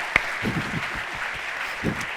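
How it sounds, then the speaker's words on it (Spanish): An audience at an event in Morella applauds briefly, a moderate burst of clapping over a couple of seconds with a sharp clap standing out near the start. "yo creo que hay que hacerles un gran aplauso a Jorge y a Elena"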